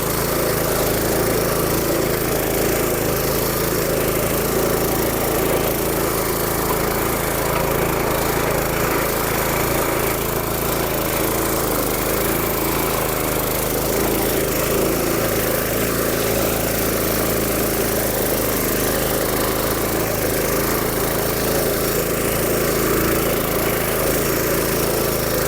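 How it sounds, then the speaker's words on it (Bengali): A petrol-engined mini power tiller weeder runs continuously while working a field, a loud, steady, buzzing drone with slight surging, heard close up with no talking. "আপনারা নিজেরা দেখতে পারলেন আমি এই উইডার টিলারটি চালালাম"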